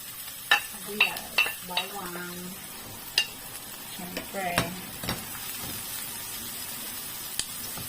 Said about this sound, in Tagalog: Basta nagigisa ko ng sibuyas, sinalagyan ko ng, ng, ano, ng pepper para mabango.